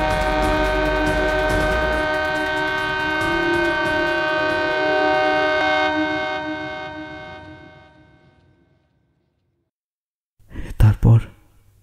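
Passing train in a drama sound effect: a loud rumbling approach with a long sustained horn blast that fades out into silence, followed by a brief burst of sharp noise near the end.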